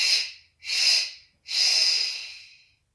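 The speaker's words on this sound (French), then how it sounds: "j'inspire par le nez. Bouche en haut, j'expire forcé." A person breathing during a breathwork exercise makes three forceful breath sounds: a nasal inhale, then two hard pushed exhalations, close and loud with short pauses between.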